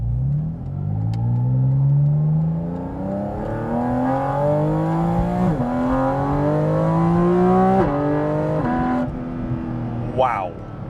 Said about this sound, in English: let's hop inside and take this Porsche Cayman GT4 RS for a drive